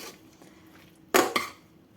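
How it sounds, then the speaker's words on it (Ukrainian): A spoon clinks twice against a bowl while okroshka ingredients are mixed with mayonnaise, two sharp knocks over a quiet background. "перемішую всі інгредієнти, як наче олів'є"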